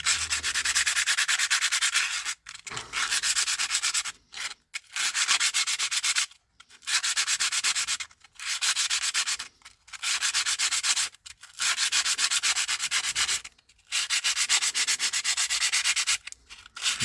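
Hand sanding scrubs at the scratched ring of an Airsal T5 cylinder kit for a 103 moped, a loud, steady rasping in repeated strokes broken by short pauses, with no voices.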